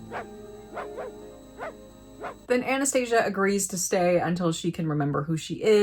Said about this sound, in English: Then Sasha barks